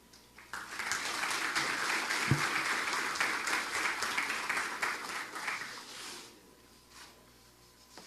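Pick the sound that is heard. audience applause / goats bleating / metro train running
audience applause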